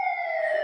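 An emergency vehicle siren holds a loud, steady electronic wail for a brief moment, close and alone.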